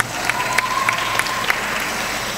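Audience at an Islamic education seminar in Jakarta clapping together, a dense, fairly loud patter of hands with a few sharper claps standing out and a thin tone running through.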